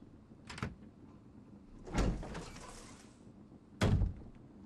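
Door sound effect in the Resident Evil HD video game: three separate broadband thuds and scrapes, a short one, then a longer sliding rush lasting over a second, then another sharp hit, each fairly close against a quiet background.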